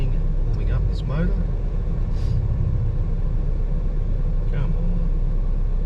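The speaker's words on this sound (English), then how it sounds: "3 minutes of scanning and warming up this motor." A Renault Clio Sport 172 engine idles as it warms up, a steady low rumble that runs through the whole stretch, with someone talking briefly over it.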